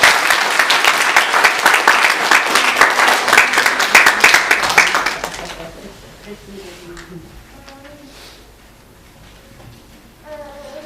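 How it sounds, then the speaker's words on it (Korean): Church congregation claps together during a Sunday worship service, a loud burst of many hands lasting about five seconds before fading into quiet room sound and soft talk. "다 같이 우리 박수로 축하드립니다."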